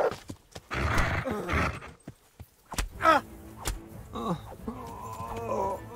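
Horse hooves clip-clopping in Kingdom Come: Deliverance, in uneven bursts of steps alongside brief snorts or whinny-like calls and other game noises, fairly close and moderately loud, with no talking over them.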